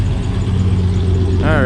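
An AMC Javelin with one bad tire idles close by with a steady low engine hum, while people talk over it.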